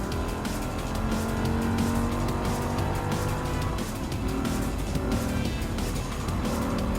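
Race cars roar continuously in Gran Turismo 7, an Audi R8 4.2 2007 and a Lamborghini Huracan among them, engines droning loud and steady with tire squeal mixed in throughout.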